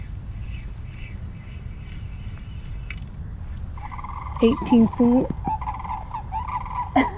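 Waterfowl squawk and honk in a short cluster of loud calls near flooded water, after a stretch of steady low background rumble, with a person speaking briefly.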